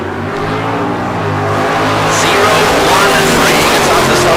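A Mopar and a Mustang drag racing car launch side by side off the starting line at the K&N Southwest Showdown, engines roaring loud and close and rising steadily in pitch as they accelerate away.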